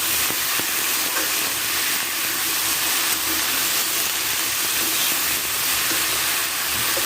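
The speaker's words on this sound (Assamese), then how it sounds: "ইয়াতে মই কাটি থোৱা ভেন্দি কেইটা দি দিছো ভেন্দি দি আকৌ আপোনালোকে এনেদৰে" Cut okra frying in a hot pan gives a loud, constant sizzle and hiss, with occasional scraping of a stirring utensil and no talking.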